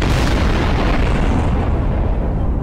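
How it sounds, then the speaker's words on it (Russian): Loud explosion in Garry's Mod, a heavy roaring blast that rumbles for a couple of seconds and slowly fades. "Еще будет пару взрывов."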